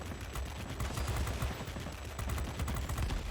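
Aircraft machine guns chatter in rapid, continuous bursts during a World of Warplanes Tier X fighter dogfight, a dense steady rattle with no voices over it.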